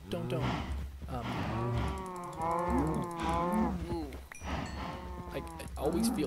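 Cattle mooing in a video game, several long drawn-out moos following one another over a low background hum, loud and close, with faint clanking between calls.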